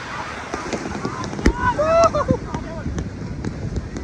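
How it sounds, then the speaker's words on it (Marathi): Sea waves surge at high tide on the Konkan coast at Vengurla during a Ganesh immersion, rushing under heavy wind buffeting while people call out and talk nearby. "आता समुद्राला भरती आहे तुम्ही लाटा बघू शकता"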